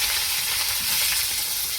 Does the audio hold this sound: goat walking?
no